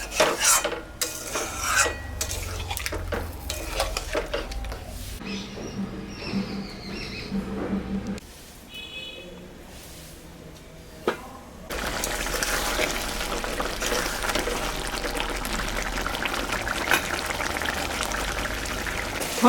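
Poppy seed paste and a little water go into chicken posto cooking in a pan, with steady sizzling and scraping along with clinks of a utensil against the pan and a quieter stretch partway through.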